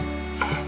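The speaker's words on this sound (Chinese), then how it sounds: "准备10克的姜，先切片。" A kitchen knife slices fresh ginger on a cutting board, with one or two quick close chops in a brief moment and no talking.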